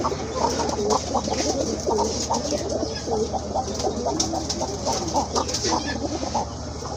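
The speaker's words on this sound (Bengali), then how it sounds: "এটাও কিন্তু আপনার রানিং জোড়া ভালো ডাকে" A pair of pigeons at a pigeon market call with soft, repeated cooing over a busy background of other birds and clucking fowl, heard continuously throughout.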